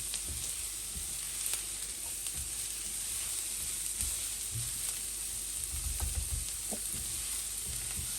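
Carbonara sauce sizzles steadily in a hot pan while being stirred, with a constant frying hiss and occasional low scraping knocks of the stirring utensil.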